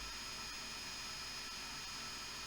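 Learjet 45 in the Aerofly FS 4 flight simulator, a steady, even jet engine whine and hiss at low level with constant tones, no talking.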